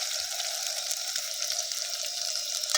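Mushrooms frying in a pan give a steady, close hiss and crackle of hot oil, continuous throughout with faint pops and no talk.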